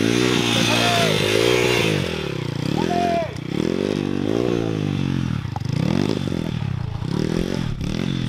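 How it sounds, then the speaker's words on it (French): A dirt bike engine revs and strains loudly, rising and falling in repeated bursts with clattering mechanical noise, and people talk over it. "va prendre ta moto direct"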